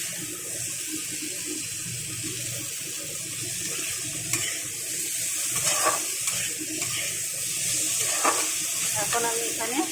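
Vegetables for sukto sizzle in a pan, with a constant close frying hiss broken by several sharper clinks and scrapes of stirring; a faint voice occasionally sits underneath.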